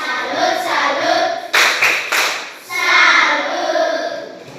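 Schoolchildren in an Indonesian classroom perform a rhythmic salute clapping routine, bursts of close, loud hand claps alternating with the group's chanting voices.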